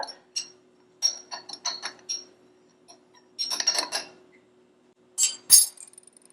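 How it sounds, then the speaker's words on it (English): Spoon stirring a margarita with lime zest in a glass, bursts of light clinking and rattling close by, the loudest clinks near the end, with silent pauses between. "We're going to stir it up."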